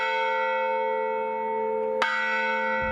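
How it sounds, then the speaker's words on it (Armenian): Church bells ring at the Sardarapat memorial in Armenia during a commemoration. A loud, sustained bell tone hums steadily, and a fresh strike lands near the end. "Սարդարապատի զանգերը ղողանջեցին 1918-ի հենց այսօրը"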